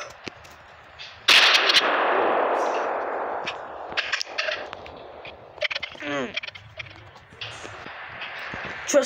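Video game gunfire cracks in short bursts and single shots, loud and close, with a voice speaking between the shots.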